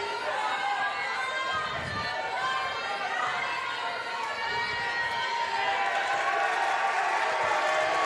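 Crowd noise fills a high school gym during a boys' basketball game, a broad roar of chatter and cheering with sneaker squeaks and a few thumps, while a commentator talks over it.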